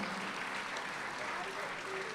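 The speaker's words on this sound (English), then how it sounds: "please give a big round of applause for Camille" A crowd at an Italian-American heritage celebration in Brooklyn gives Camille a round of applause, a faint, steady wash of clapping heard from a distance.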